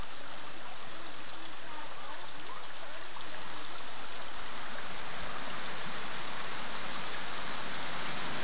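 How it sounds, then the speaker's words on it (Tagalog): A stream by the seashore flows steadily, giving a constant broad rush of water heard close and loud throughout. "Ayan na ang batis."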